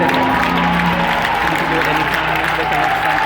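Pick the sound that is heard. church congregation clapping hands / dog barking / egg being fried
church congregation clapping hands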